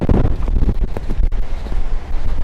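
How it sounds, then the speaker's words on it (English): Strong wind buffets the microphone outdoors at a former U.S. Army post in Yellowstone, a loud, continuous low rumble with gusty surges throughout, no voices present. "Ooh, it's windy. The wind is picking up."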